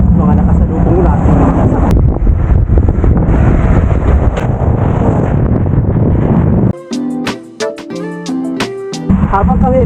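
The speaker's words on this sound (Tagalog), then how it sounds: "At ang hangin ay parang lalong lumalakas." Strong wind roaring and buffeting the microphone in a loud, continuous rush during a drive in rain near Riyadh, Saudi Arabia, briefly giving way to a music passage.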